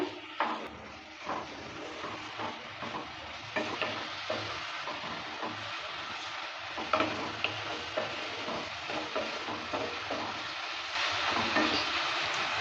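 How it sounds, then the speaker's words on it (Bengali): Spices get stirred into a light tengra fish curry with flat beans and potato: a continuous close sizzle and hiss with repeated spatula scraping against the pan throughout, with no voices. "সব কিছু দেওয়ার পর ভালো করে নেড়েচেড়ে নিচ্ছে"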